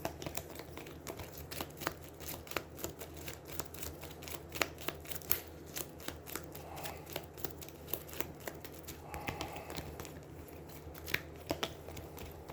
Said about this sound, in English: and then shuffle again.